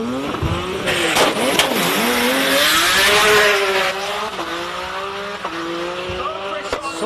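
A race car launching hard at a hill climb, its engine revving and climbing through gears with rising and falling whine and tire noise, loud and close, with a commentator talking over it.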